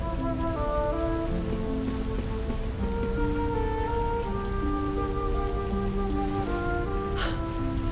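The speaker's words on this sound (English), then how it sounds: "Rain falls." Steady rain falling in the video game Dragon Quest XI, a constant even wash that runs the whole time beneath sustained musical tones, with no voices.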